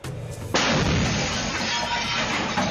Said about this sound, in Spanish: Supuestos sicarios acaban de atacar a balazos una casa.